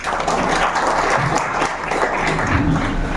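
An audience at a public event claps steadily and loudly, a dense and even wash of applause that holds without a break from start to end.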